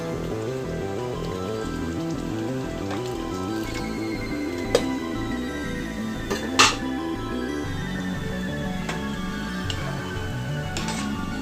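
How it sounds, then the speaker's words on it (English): Water is poured into Punjabi chole masala cooking over a raised flame, the pot crackling and bubbling with a soft steady sizzle, dotted with a few sharp clinks and ticks, no voices. "I'm going to add a little bit more water."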